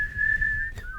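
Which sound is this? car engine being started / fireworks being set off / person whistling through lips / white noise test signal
person whistling through lips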